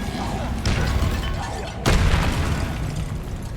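A Bombarda spell explosion in Hogwarts Legacy, a single loud booming blast at about the two-second mark following a softer magical burst, with game ambience rumbling throughout and no talk.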